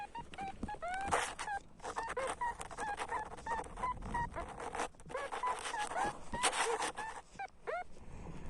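Rapid warbling electronic tones from a metal detector, strong over a likely aluminium spoon, rise and fall continuously, with brief pauses, close and fairly loud over outdoor rustling.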